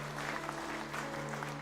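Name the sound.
congregation applause, clap offering in church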